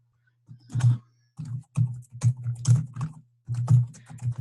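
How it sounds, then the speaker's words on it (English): Bursts of clacky typing on a computer keyboard, close and fairly loud, with short pauses between flurries of keystrokes over a faint steady hum. "Oh, this keyboard is terrible."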